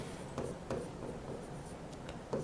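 Marker or chalk strokes on a board during a chemistry lesson: short scratchy squeaks and taps in an uneven rhythm, faint and close, with no talking.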